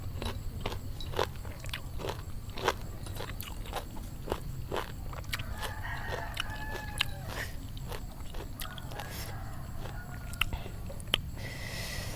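Crisp, close bites and chewing of crunchy unripe green mango, a rapid series of sharp crunches repeating at an even pace across the clip with no talking.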